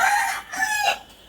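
A rooster crows loudly and close by, one drawn-out call in a few rising and falling parts.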